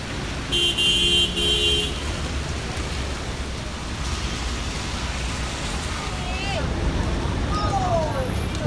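A rainy business day of jammed traffic on Sule Pagoda Road in Yangon, with steady engine rumble and hiss, a short horn near the start and scattered horn toots and babble later.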